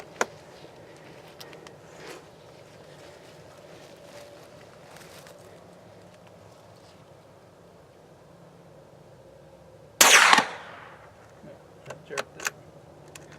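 A .22 LR rifle fired at a Copenhagen can outdoors: a single sharp shot stands out against quiet background noise, followed by a few small knocks, with people talking nearby.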